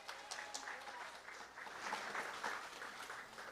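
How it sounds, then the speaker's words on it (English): Audience applause at the McDonald College graduation ceremony, a fairly quiet, steady patter of many hands clapping at a distance for a past student's performance. "Let's give him another round of applause."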